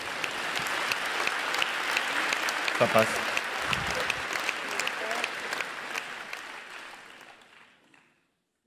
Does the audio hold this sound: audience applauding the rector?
yes